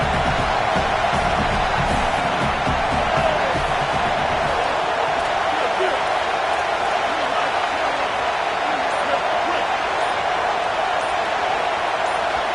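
A college football stadium crowd roars as one, a dense, loud, steady wall of noise that holds without a break throughout.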